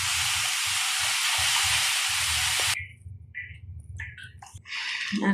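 Thick milk poured into semolina frying in a pan for halwa, a loud sustained sizzling hiss that cuts off abruptly midway, leaving quieter bubbling and crackling over a low background hum.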